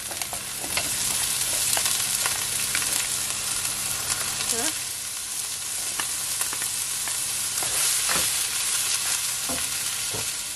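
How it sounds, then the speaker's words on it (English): Sweet pepper sautés in a hot pan with onion for chicken chow mein, a steady close sizzle broken by scraping stirs and occasional clinks of the utensil. "Gonna saute my sweet pepper."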